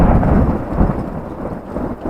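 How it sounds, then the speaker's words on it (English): A loud, deep rumble of thunder rolls on steadily, with rain hissing underneath. "that was thunder for those that couldn't hear it"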